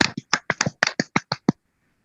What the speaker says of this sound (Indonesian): kita beri tepuk tangan buat Bang Zulkifli M. Abbas.